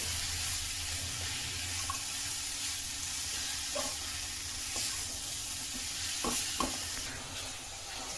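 Grated jaggery melts in a pan for coconut laddu, stirred with a continuous scraping swish over a soft sizzling hiss, close and steady with occasional light clinks and no talk.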